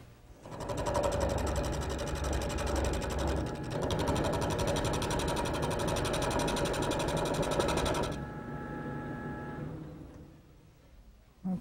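A wood lathe spins a long, thin chair blank into a round, giving a loud, steady whirring hum with a tonal motor whine for about eight seconds before winding down.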